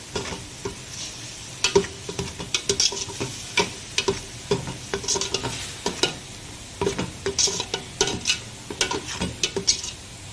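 Whole spices sautéed in a pan for mushroom biryani, a low constant sizzle punctuated by rapid, irregular metal spatula clicks and scrapes against the pan, near and crisp, with no voices.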